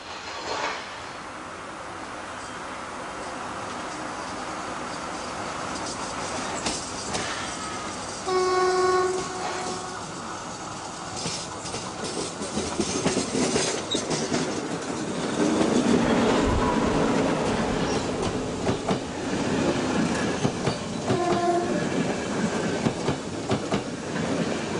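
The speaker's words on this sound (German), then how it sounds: "Der alte Triebwagen ist Zubringer zu einem BW-Fest." An old diesel railcar rumbles past with rhythmic wheel clatter near Leipzig, sounding its horn twice, the noise swelling as it draws nearer.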